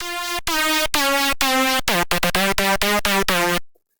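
A bright, buzzy synth lead in FL Studio 20 plays a melody, staccato punchy repeated notes, loud and upfront, ending abruptly.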